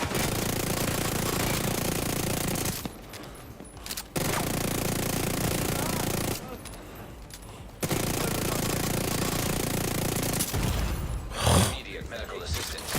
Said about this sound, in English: God, that turret is fucking insane.